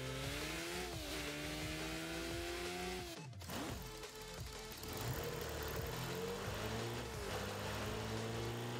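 A heavy, truck-like car engine in the Rocket League video game revs loudly and steadily. It rises and falls in pitch with a short break partway through, and no one speaks.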